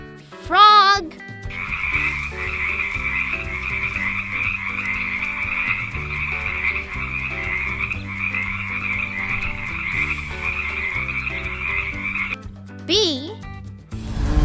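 Repeated frog croaks in a steady pulsing rhythm, loud and close, over a light cheerful music bed, with brief sound-effect flourishes at the start and end.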